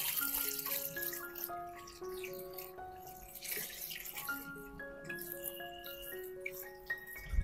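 Water is poured from a container into a tub being turned into a small lotus pond, a soft steady splashing and trickling heard quietly alongside gentle melodic tones.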